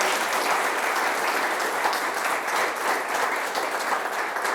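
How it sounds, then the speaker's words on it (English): Steady audience applause at a school district State of the District event, a dense, even wash of clapping from a sizable crowd that holds at constant loudness for several seconds with no voices. "If you could give them another round of applause."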